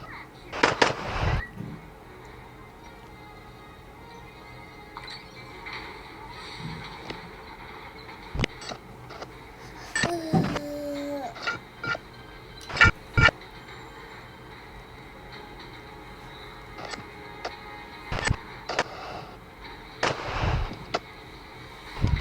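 Gunshots fired at steel targets outdoors, several sharp cracks scattered irregularly across a quiet background, some in quick pairs, with no talking.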